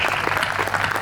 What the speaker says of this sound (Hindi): एक बार तालियां बजाकर आदेशित कर दीजिए,